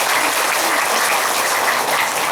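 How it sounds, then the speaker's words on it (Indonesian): A crowd at a large Islamic religious gathering applauds, a dense unbroken wash of many hands clapping at once, steady and full throughout with no talking on top. "Tepuk tangan buat kita semua."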